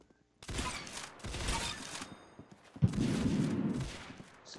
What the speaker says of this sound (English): This is kind of like a shotgun, I guess.